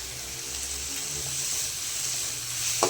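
Onions sautéing with rock salt in a pan give a steady, fairly quiet sizzle and hiss throughout, with no talking.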